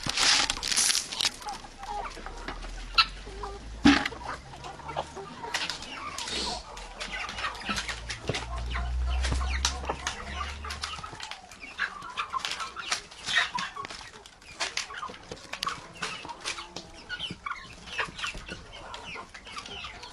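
Mixed-breed chickens in a warm greenhouse in late autumn, several birds clucking softly and irregularly at close range, with scattered rustling and brief bursts of wing flapping.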